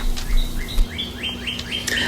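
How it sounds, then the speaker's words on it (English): Birds in a backyard in Tuscaloosa, Alabama on a sunny morning sing a quick series of rising chirps and tweets, clear and fairly close, over a faint low hum. "there's birds making noises everywhere, and I thought I'd share them with you."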